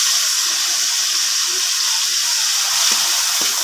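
Tomatoes sautéing in hot cooking oil after garlic and onion, a steady close sizzling hiss running throughout with a few faint clinks and stirring knocks near the end.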